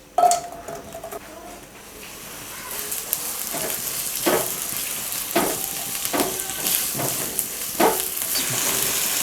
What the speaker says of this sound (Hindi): तो अब हम इसमें 2 दरमियाने साइज़ के प्याज बारीक कटे